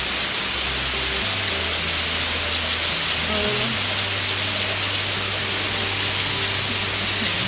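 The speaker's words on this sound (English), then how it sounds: "blowing the rain towards me." Wind-driven rain falls in a steady, dense hiss close to the microphone, continuous and loud throughout, with a low hum underneath.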